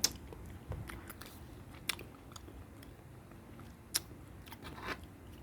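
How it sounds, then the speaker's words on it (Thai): Someone takes a bite of a 7-Eleven KitKat mousse cake and chews it close to the microphone, with a few soft crunches and quiet mouth sounds over low background hiss. "ขอกินอันนี้ก่อน"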